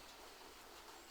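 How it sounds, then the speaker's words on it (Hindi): Soft, steady hiss of light rain falling on surfaces, faint and continuous with no voices. "तो भाई फिर से बारिश शुरू हो चुकी है"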